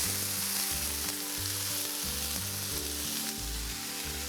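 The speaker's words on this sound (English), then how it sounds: "this is frozen green beans, and you're gonna hear the sizzle now" Loud, continuous sizzling and crackling of frozen green beans hitting a hot pan, with low hum and occasional stirring underneath.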